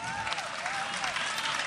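An audience at a Hindi poetry recital claps, a dense wash of applause filling the short stretch under a sustained tonal voice.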